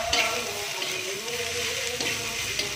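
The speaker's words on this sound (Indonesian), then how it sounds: "Ditumis lagi sampai harum ya teman-teman, baru dimasukkan labu siamnya" Red chilies and bird's eye chilies with spices stir-frying in a wok before chayote goes in: a loud, steady sizzle with stirring scrapes close up, and no speech.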